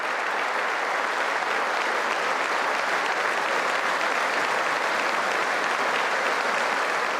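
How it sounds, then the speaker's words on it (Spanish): Sustained ovation for Guaidó at the State of the Union in the US Capitol: dense, steady applause from a large crowd, loud and continuous throughout with no break. "La ovación a Guaidó continuó."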